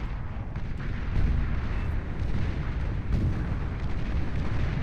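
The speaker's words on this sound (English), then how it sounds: "The salvo bots firing away over here as well, just coating the ground in missiles and mayhem." Salvo bots firing volleys of missiles in the strategy game Beyond All Reason, a dense rumble of overlapping launches and explosions with sharper bursts now and then, steady and moderately loud.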